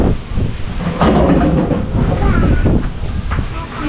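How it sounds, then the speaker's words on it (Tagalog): Strong wind roars and buffets the microphone continuously, loud and close, with a voice briefly audible under the gusts. "Palakas ang hangin!"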